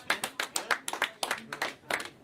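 A live audience claps in a quick, irregular burst of about a dozen sharp claps, fairly close and clear with no one speaking.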